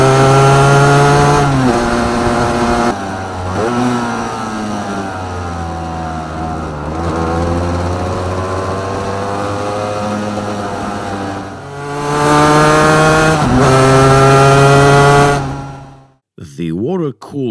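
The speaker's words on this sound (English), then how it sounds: "the sound of the NS400R, the Honda's first V3 two-stroke engine" A Honda NS400R V3 two-stroke motorcycle engine revs hard and loud, pitch climbing and falling through several throttle blips before cutting off abruptly.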